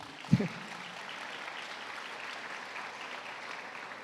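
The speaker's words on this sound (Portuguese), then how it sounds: "Uma salva de palmas para a palavra do Senhor" Steady applause fills a church congregation after a scripture reading, a sustained patter of many hands at moderate level, opened by one brief louder thump near the start.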